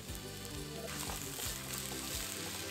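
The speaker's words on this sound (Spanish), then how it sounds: "Tiene que retostarse muy bien las verduras." Vegetables frying in oil as the base of a chicken stew sauce give a dense, continuous sizzle with repeated stirring strokes beneath it, close but moderately quiet, and no voices.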